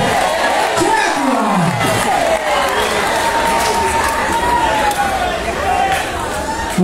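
A live crowd at a Brazilian music show claps and cheers at full volume. Voices shout and call out continuously over the dense clapping.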